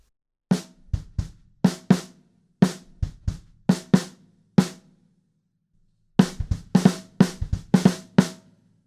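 Drum kit playing a one-bar fill for a remix, a run of sharp kick, snare and cymbal hits in a quick syncopated rhythm, a pause, then a denser burst of hits, loud and close with no talk.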